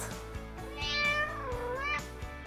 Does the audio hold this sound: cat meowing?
yes